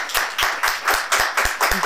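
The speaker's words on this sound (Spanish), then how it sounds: "Creo que merecemos un aplauso para Yael." A few people in a podcast studio clapping for a guest, a short, close burst of quick, even handclaps with no talking.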